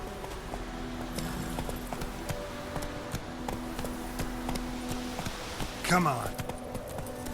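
Roach the horse's hooves clip-clop in a steady walking rhythm in The Witcher 3: Wild Hunt, close and moderately loud under ambient game sound, with a short voiced command partway through.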